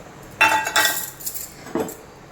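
Mutton curry stirred in a metal pot, with a few close, bright scrapes and clinks of a spoon against the vessel over a couple of seconds, and no voices.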